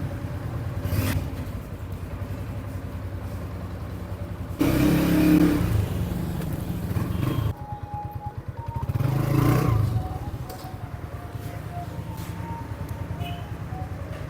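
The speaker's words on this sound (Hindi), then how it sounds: "अभी एक बार बाइक की टेस्टिंग ड्राइव कर लेते हैं।" A Honda CB125F motorcycle engine runs steadily on a test drive, rising in two revving bursts as it accelerates, with rumbling low tone throughout and no voices.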